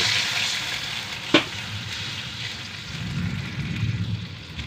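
Broth added to vegetables and sardines sautéing in a pan produces a continuous close hissing sizzle with a faint stirring scrape, a single sharp clink partway through, and the bubbling swelling slightly near the end.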